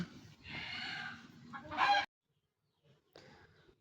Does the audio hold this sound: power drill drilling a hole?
no